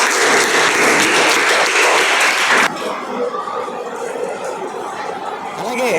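At a Z.P. High School singing competition prize-giving in Vaddadhi, an audience claps loudly for about two and a half seconds. The applause cuts off abruptly and gives way to scattered chatter and soft chuckles.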